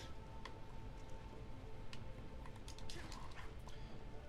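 Two dogs bark and yip in combat in the Metal Gear Rising Jetstream Sam DLC game, short sharp cries scattered over a dense, steady bed of game noise and music.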